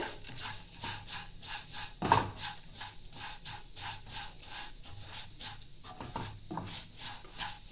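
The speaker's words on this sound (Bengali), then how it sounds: "ভালো করে নাড়াচাড়া করতে হবে, নাহলে একটা লাল হয়ে যাবে, একটা সাদা রয়ে যাবে।" Vermicelli being stirred in a pan over low heat for semai payesh, with a steady run of soft scraping and rubbing strokes, one sharper knock partway through, close and moderately quiet with no talk.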